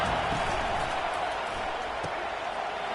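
A football stadium crowd at a Michigan game roaring behind the defense on a big third down, a dense, steady wall of cheering and noise throughout, with a commentator talking over it.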